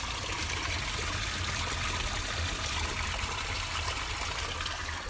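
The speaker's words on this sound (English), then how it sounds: "I don't know if you can hear the water" Water trickling at a sacred desert spring, a steady soft hiss and babble of flowing water, faint and continuous, with no voices.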